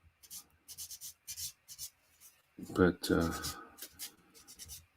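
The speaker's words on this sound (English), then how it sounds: "I'm just sanding and prepping these little figures" Small model figures for a Macross Valkyrie diorama being sanded by hand: short, dry, repeated scratchy strokes in quick bursts, close and fairly soft, with a brief stretch of speech partway through.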